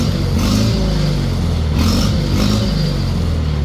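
A 1940 Farmall H tractor with an M&W 9-speed setup runs steadily nearby, its engine giving a continuous loud, low, throbbing drone with faint clattery texture.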